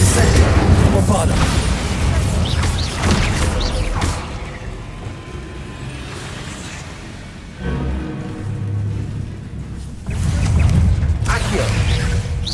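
Incendio and Bombarda spells blast and crash during a spider fight in Hogwarts Legacy, with booming impacts and rumbling bursts at the start and end, while voices talk and shout over much of the action.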